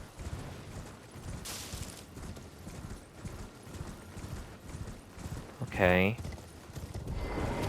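A horse's hooves clip-clop at a steady pace through the Elden Ring overworld, soft and fairly faint, with a short neigh-like burst near the end and a brief spoken word.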